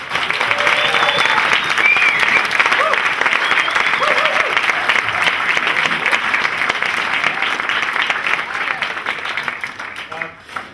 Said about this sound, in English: can we have a big round of applause for all the parents who have put this together?